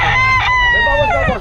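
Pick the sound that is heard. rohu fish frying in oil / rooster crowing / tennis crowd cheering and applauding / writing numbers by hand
rooster crowing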